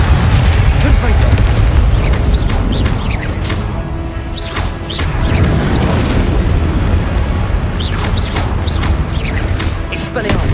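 A Confringo blasting spell booms in Hogwarts Legacy, heavy rumbling explosions and crashing impacts layered over continuous game noise and talk.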